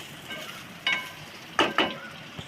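Frying in oil for a soybean and potato curry: a quiet, steady sizzle with a few sharper bursts of spitting and crackle standing out near the end.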